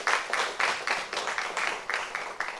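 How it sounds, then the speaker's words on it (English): Studio audience applauding at a celebrity event, a steady patter of many hands clapping in rhythmic bursts, moderately loud and close, with no talking over it. "A big round of applause there for what we saw."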